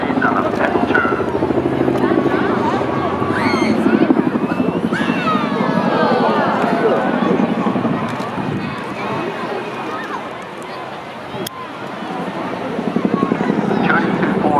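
An RAF Chinook helicopter from the 2015 display team performs a run-in and pedal turn at the Swansea air show, its deep rotor thrum loud and continuous while an announcer talks over the public address.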